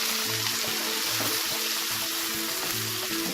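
Plantains frying in hot oil, a dense continuous sizzle with low bubbling underneath, close and steady throughout, with occasional faint clicks.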